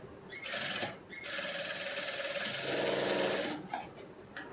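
A sewing machine runs in steady bursts while stitching a back-open princess-cut blouse, a continuous close whirring hum with brief pauses near the start and end.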